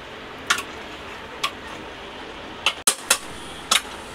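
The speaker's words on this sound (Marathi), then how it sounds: "आता आपण ढक्कन लावूया" The lid of an old, plain pressure cooker goes on with a string of sharp metallic clinks and taps spread over a few seconds, including a tight cluster near the end, in a quiet kitchen with no talking.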